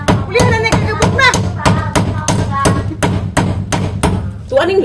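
Hammer striking nails in steady, loud, repeated blows, roughly a dozen sharp impacts at a brisk even rhythm, close by and dominating the scene.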